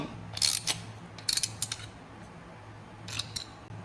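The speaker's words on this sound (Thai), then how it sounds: "ใช้ไขควงหรือประแจขัดรูของหัวเกียร์ขันน็อตให้แน่น" A screwdriver or wrench tightens the nut on an aluminum grass-trimmer head fitted to a brush cutter's gear head. Three close clusters of crisp metallic clicking and ratcheting sit over a faint background hum.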